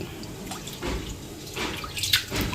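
Rice is washed in water by hand, sloshing and swishing close by with small splashes and drips, steady and moderately loud with no talk.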